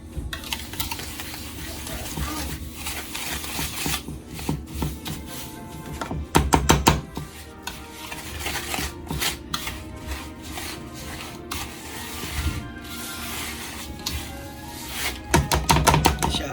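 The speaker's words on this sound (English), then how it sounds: "And we're gonna whisk this together." Brown sugar and corn syrup for a pecan pie filling being whisked in a bowl: a steady scraping, rubbing rhythm with bursts of quick metallic clicks, close and moderately loud.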